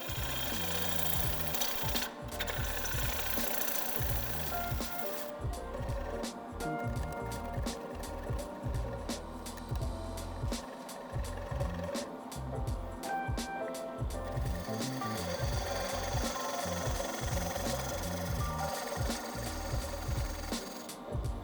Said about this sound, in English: I'm gonna use the wood beater again to take a series of shear scrapes to get that finalized